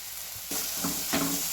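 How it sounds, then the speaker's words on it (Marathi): Finely chopped coriander goes into a sizzling vegetable and masala mixture in a pan, with the frying hiss jumping louder and brief scraping stirs following, no talk. "थोडीशी बारीक चिरलेली कोथिंबीर टाकूया"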